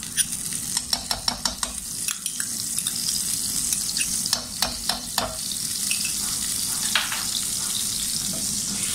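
Butter melting and sizzling in a hot pan for homemade chicken lasagna, a steady close frying hiss with a series of sharp stirring clicks and scrapes, no voices.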